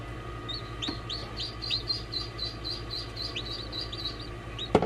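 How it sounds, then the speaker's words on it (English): Ducks call in a repeated series of short, bright quacks and chirps close by over a steady background hum, with a couple of soft knocks and no speech. "You guys hear the ducks?"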